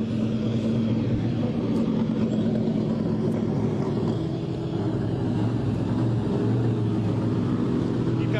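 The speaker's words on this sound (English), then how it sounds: "pulling in the actual Trans Am cars from back in the day" Historic Trans Am race cars rumble into the paddock at Sebring: a steady, deep engine drone holds at close range throughout while someone talks over it.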